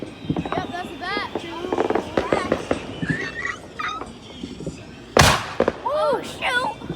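Fourth of July fireworks burst outdoors, with a single loud crack standing out among lighter pops, while people chatter and exclaim throughout.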